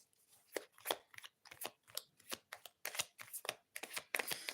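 A deck of cards is shuffled by hand in a string of quick riffling and snapping bursts, close up and fairly quiet, repeating with short gaps between them.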